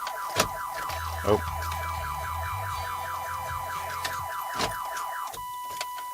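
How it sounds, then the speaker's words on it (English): A car alarm cycles through rapid warbling electronic tones, loud and repetitive, with a few sharp clicks and a brief spoken exclamation. "Sorry, that was my alarm."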